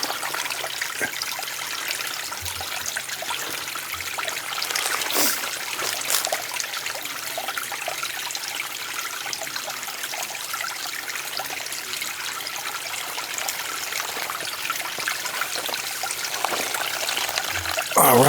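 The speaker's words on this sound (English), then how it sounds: "I do love to show you the little runoffs and streams and tributaries." Small stream runoff trickling over rocks beside the Duck River Trail, a steady, close, continuous wash of water that stays even throughout with no talking.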